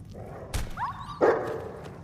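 Two sharp dog barks a short distance apart, the second louder with a whining tail, over quiet background.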